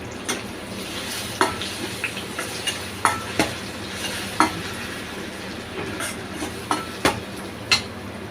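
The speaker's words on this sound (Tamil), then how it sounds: "அடுத்து இஞ்சி பூண்டு பேஸ்ட்டு சேர்த்துட்டு இதையும் கொஞ்சம் லைட்டாக ஃப்ரை பண்ணிடணும்." Ginger garlic paste fries in a pan with a steady, soft sizzle, broken by a series of sharp spoon clicks and scrapes as it is stirred, with no voices.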